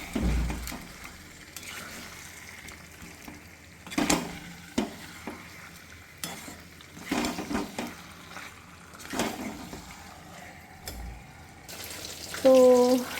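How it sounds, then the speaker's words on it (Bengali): Fried chicken pieces being sautéed in spice masala for a Bengali curry, with soft sizzling, intermittent spoon scrapes and knocks, and a short bright tone near the end. "ভেজে রাখা চিকেনটা দিয়ে এইবার আমি ভালো করে আরেকটু কষিয়ে নেব"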